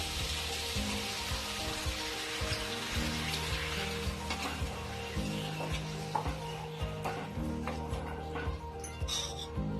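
Jackfruit and potato masala keeps sizzling and frying in a pan after water is added, a continuous crackling hiss with occasional stirring scrapes, close and steady throughout.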